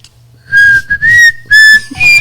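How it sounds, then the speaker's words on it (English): A woman whistles a tune up close, clear and loud, in several sustained melodic phrases with brief pauses between them. "She can whistle any song."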